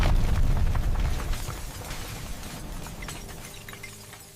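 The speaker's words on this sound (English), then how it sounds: "The bomb goes off." A bomb goes off in a WWII assassination-plot dramatization, opening with a heavy low boom and crackling debris that decays slowly over several seconds, loud at first and fading.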